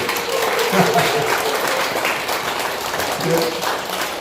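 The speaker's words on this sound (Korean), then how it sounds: "박수 한번." A Korean church congregation claps during a Sunday worship service to welcome a returning member, a sustained wash of moderate applause lasting several seconds, heard from within the room with brief voices underneath.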